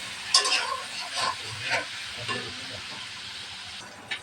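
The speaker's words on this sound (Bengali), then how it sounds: "তেল গরম হয়ে গেছে, দিয়ে দেবো চিংড়ি মাছ। চিংড়ি মাছটা ভাজা নেব।" Six or seven prawns fry in hot oil in a pan, giving a continuous soft sizzle with occasional stirring scrapes and spatters, close and moderately quiet.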